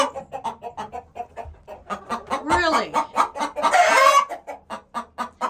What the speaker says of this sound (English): This is what a broody hen does when you try to get to the eggs.